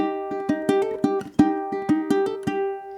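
Ukulele plucking bar 10 of a song, a short figure played twice in a row: crisp individual plucked notes in a steady rhythm, close and clear with no voices.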